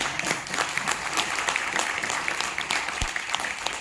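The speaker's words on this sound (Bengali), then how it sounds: "ওদের জন্য একটা জোরে হাততালি" An audience claps for a theatre troupe after a stage play, a dense, steady burst of applause from a crowd with no voices standing out.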